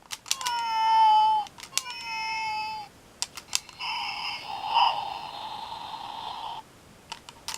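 A 2001 McDonald's UK Robo-Chi toy cat produces two electronic meows at close range, then a steady buzzy purr that lasts a few seconds, followed by faint clicks.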